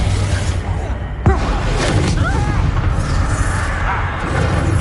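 A Confringo fire-blast spell bursts with a sudden boom amid a dense, continuous roar of combat effects in the video game Hogwarts Legacy, with fighting against Ashwinders and Rookwoods.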